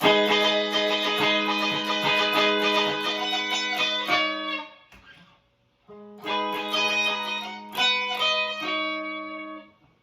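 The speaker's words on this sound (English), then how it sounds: "And that's just the main strumming riff that goes throughout the entire song." Bright, ringing electric guitar strums in the repeating main riff of a song, fading to near silence midway before the pattern resumes.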